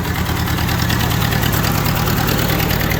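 A Ford 860 tractor engine idles after sitting for nearly three years, a loud, close, steady chugging rumble with an even, rapid rhythm.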